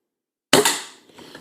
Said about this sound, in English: Still shooting pretty straight at the moment.